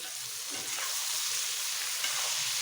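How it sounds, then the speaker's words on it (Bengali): Aubergine slices coated with turmeric fry in hot oil, giving a steady, close, even sizzle throughout with no talking. "এখন বেগুনগুলোকে ভালো করে ভেজে নেব।"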